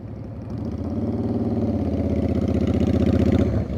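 Motorcycle engine idling smoothly, a steady rhythmic low putter that rises a little in loudness before cutting off near the end, close and clear with no talk.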